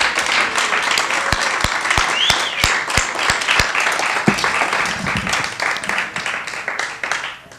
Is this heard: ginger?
no